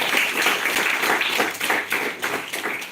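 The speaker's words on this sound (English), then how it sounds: "We just all give a clap to Ramakrishnan sir for arranging this." A college valedictory audience claps for Ramakrishnan sir, a dense, steady wash of many hands clapping together at close range for a few seconds.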